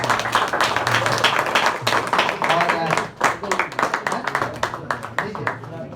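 A crowd claps steadily throughout, the dense patter mixed with voices talking and a low steady hum underneath.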